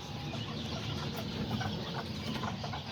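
Small Azteca and Serama chickens cluck in an outdoor yard, soft scattered clucks heard faintly under steady, loud background noise.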